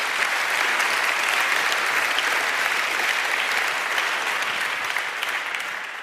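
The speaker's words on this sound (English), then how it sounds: "I think we may also applaud for this urgent call." Lecture audience applauding, sustained even clapping from a large crowd that holds steady and fades slightly toward the end.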